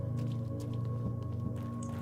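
Squelching footsteps through water in the horror video game The Evil Within, soft wet sloshes over a steady low ambient hum, moderately loud and close.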